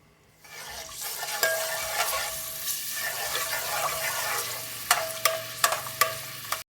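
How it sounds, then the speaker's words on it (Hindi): Garlic fries in hot oil in a pot, giving a steady close sizzle while a utensil stirs and scrapes, with several sharp knocks against the pot near the end. "थोड़ा सा हम इसको फ्राई कर लेंगे।"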